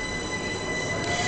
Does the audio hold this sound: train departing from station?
yes